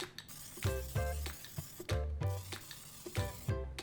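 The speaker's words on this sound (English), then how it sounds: "I'm gonna prepare my pan by spraying it with oil" Short hissing bursts of cooking oil spray onto a preheating pan, three quick sprays spaced a second or so apart, close up in a quiet kitchen.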